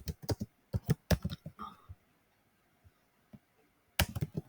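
Rapid bursts of keystrokes on a computer keyboard while code is written in a Selenium test, with clustered clacking at the start and end and a quiet pause in between.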